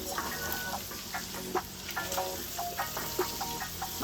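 Diced vegetables for baked spaghetti fry in a pan with a steady close sizzle, broken by occasional scrape and stir clicks.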